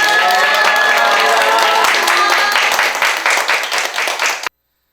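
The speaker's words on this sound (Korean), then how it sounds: "박수로 한번 환영하도록 하겠습니다" A crowd at a church service applauds steadily for about four and a half seconds, a dense wash of clapping that thins slightly before stopping abruptly.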